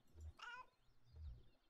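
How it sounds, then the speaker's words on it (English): A single cat meow in Kentucky Route Zero, moderately loud and close, with a low rumble before and after it. "Alert meow."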